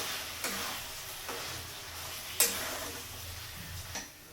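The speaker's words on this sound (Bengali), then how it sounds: "এবার ডালটাকে দেখো মশলার সাথে খুব ভালো করে কিন্তু কষাবো।" Ground lentil paste frying with spices in a pan gives a low, steady sizzle close by, with a few scrapes and taps from stirring and one sharp clink partway through.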